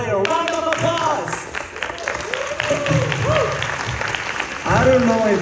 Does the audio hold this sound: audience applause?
yes